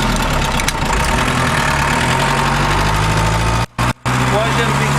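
Diesel engine of a Mercedes 508D van running steadily and loud, a continuous low idle-like drone with two brief cutouts near the end while gears are shifted.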